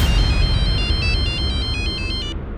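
A phone ringtone plays loud and close, a repeating pattern of bright electronic tones for about two seconds before cutting off, over a low rumbling background.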